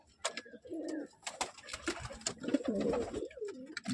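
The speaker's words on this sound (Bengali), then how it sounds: "আর এই হচ্ছে আমার কালদমের পেয়ারটা, এটা মেলটা আছে" A pair of Kaldom pigeons, male and female, cooing close by, soft throaty rolling coos repeated in irregular bursts with faint rustling between them.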